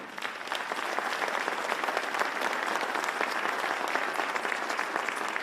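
A crowd at a New York event honoring advocates of the 9/11 Victims Compensation Fund applauds a congressmember, with sustained dense clapping that starts quickly and holds steady throughout.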